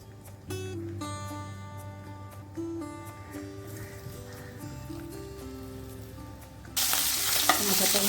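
Salt-and-turmeric-rubbed hilsa fish heads frying in mustard oil in a wok, close crackling sizzle with clinks and stirring, growing into a louder, denser spatter near the end.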